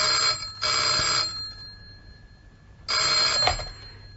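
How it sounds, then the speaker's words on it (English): A telephone bell rings in two clear bursts separated by a pause, loud and close with no voices over it. "I put down the phone, but a few minutes later, it rang."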